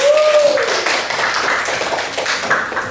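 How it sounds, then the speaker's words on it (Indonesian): A classroom of students clapping together for correct answers, a dense burst of applause filling the room at close range, fairly loud and steady throughout. "Tepuk tangan untuk yang benar."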